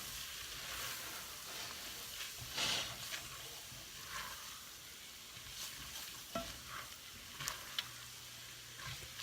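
Onions with flour stirred in a pot just below medium heat for broccoli cheddar soup, giving a faint, soft sizzle with occasional light scrapes and taps, quiet and close, no talking.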